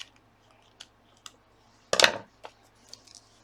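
Scissors cut paper for a gluebook spread, with a few soft isolated snips, then one louder crisp crunching cut near the middle and quiet rustling afterward.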